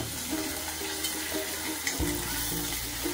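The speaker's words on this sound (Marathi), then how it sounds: "राई चांगली तडतडून घ्यायची." Mustard seeds spluttering in hot oil for a Maharashtrian tempering: a dense, close sizzle with scattered tiny pops and crackles running steadily throughout.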